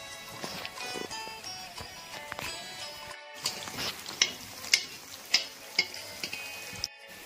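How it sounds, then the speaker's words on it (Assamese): Garlic-ginger paste frying and being stirred in mustard oil in a very large wok cooking for a crowd of forty to fifty, a steady sizzle with sharp clicks and scrapes of a utensil, close and fairly loud, no talk. "গাৰ্লিক জিঞ্জাৰ পেষ্ট তেলৰ লগত ভাজিব লাগিব ভালকৈ।"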